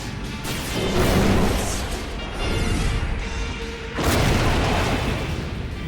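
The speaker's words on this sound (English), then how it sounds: "On my signal, we both open fire." Animated battle on hoverbikes with bursts of weapon fire and booming impacts, loud and dense, swelling in waves with a sharp new blast near the end, no talk.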